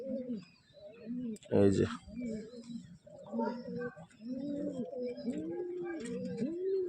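Pigeons, including a male with clipped feathers, coo in repeated soft rolling bursts close by, while someone speaks briefly over them.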